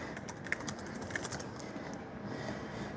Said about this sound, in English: I hope my typing isn't like super loud.